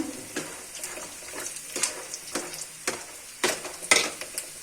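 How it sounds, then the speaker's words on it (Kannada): Garlic and peanuts frying in oil give a moderate sizzle broken by irregular crackles and pops and a few scraping stirs, heard up close with no speech. "ಇವಾಗ ಶೇಂಗಾನ ಹಾಕ್ಕೊತಿದ್ದೀನಿ ಅದನ್ನು ಕೆಂಪಗಾಗೋವರೆಗೂ ಹುರ್ಕೊಳ್ಳಿ ಎಣ್ಣೆಲೆ ಫ್ರೈ ಮಾಡ್ಕೊಬೇಕು"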